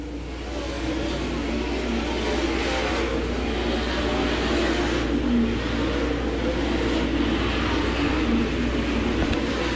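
Late model race cars roar around a dirt track during a feature event, a dense, continuous engine drone with steady revving and no pauses throughout.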